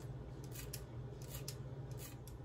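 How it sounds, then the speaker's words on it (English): Kitchen scissors snip through food, cutting it into very thin ribbons, a series of quiet crisp snips close by over a faint background hum, with no talking. "If you don't use kitchen scissors, you are missing out."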